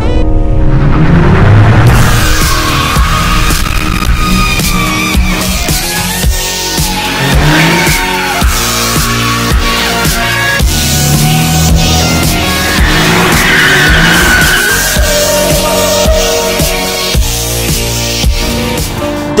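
A Nissan 370Z Nismo drifting on pavement at a dealership event, loud sustained tire squeal and skidding over a revving, accelerating engine, continuous and close throughout.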